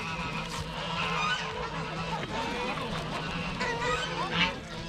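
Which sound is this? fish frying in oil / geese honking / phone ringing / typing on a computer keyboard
geese honking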